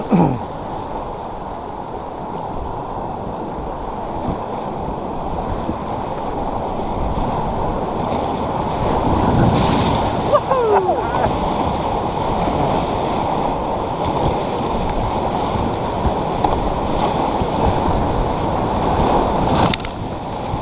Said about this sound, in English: This is one of the longer rapids on the river.